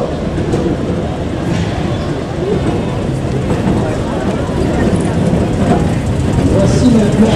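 A Brussels tram runs on its rails with a loud, continuous rolling rumble and a faint, irregular clatter of wheels on track. The sound holds steady and close across the whole stretch.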